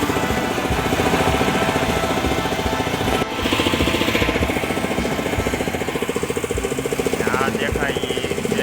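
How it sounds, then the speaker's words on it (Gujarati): An air compressor mounted on a tractor runs for well digging, giving a loud, steady mechanical chugging and rattling that continues throughout with a brief dip partway. "ટ્રેક્ટરમાં ફિટ કરેલું કમ્પ્રેસર."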